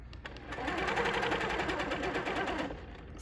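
A sewing machine stitches a quilt along a ruler, running in a steady, fast, close-up whir that holds for a few seconds before slowing and stopping near the end.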